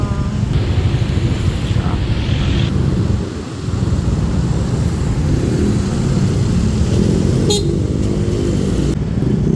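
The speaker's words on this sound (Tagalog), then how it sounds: "Ayan, ang traffic dito sa Mandaluyong." Heavy city street traffic in Mandaluyong, with a loud, continuous roar of cars and motorcycles, engines revving nearby, and short horn toots breaking through, heard from close by without talk.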